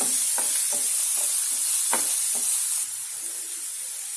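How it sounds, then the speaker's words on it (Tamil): Onion and three dried red chillies sautéing in a pan for agathi keerai poriyal, a soft continuous hiss with a few light stirring scrapes and taps, then quieter sizzling. "அது கூடவே வரமிளகாய் ஒரு 3 மிளகாய் ஆட் பண்ணியிருக்கிறேன். இது கொஞ்சம் வதங்கட்டும்."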